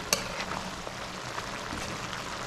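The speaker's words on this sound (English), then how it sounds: "our pumpkin has been cooking for about 10 minutes. So let's give it a stir" Pumpkin cooking in a pan with herbs, celery, garlic and shrimp, a soft continuous sizzle with a sharp utensil tap near the start and light stirring scrapes.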